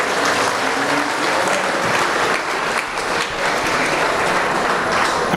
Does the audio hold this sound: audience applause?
yes